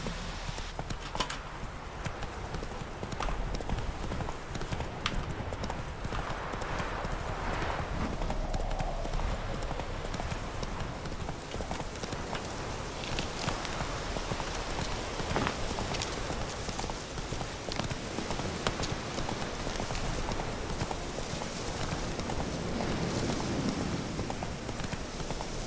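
Horse hooves gallop in The Witcher 3, a continuous rapid clip-clop rhythm over dirt, loud and steady for the whole stretch with ambient game wind and background sound.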